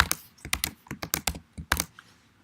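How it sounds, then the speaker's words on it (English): Computer keyboard keys being pressed to enter a password, a quick irregular run of sharp, close clicks and taps with short pauses between bursts, alone in a quiet room. "I'm making sure that I know what my password is, that I'm typing it correctly"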